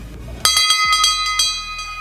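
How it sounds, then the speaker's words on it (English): A bright metal bell on an 1800s fire truck rings out in several quick strikes, its clear tones lingering and overlapping as they decay. "And so we got 3 bells here. I'm only going to ring one of them."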